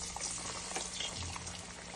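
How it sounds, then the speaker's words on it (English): Breaded chicken tenders bubble and sizzle in hot frying oil, a close, fairly quiet, steady crackling fizz with no talking. "So you notice the bubbling all around the pieces."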